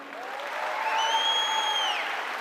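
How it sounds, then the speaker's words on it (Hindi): A seated crowd at a business success-day event in Delhi claps at moderate volume, with a sustained high whistle or ringing tone rising and fading over the middle of the applause. "एक बार जोरदार तालियां उनके लिए"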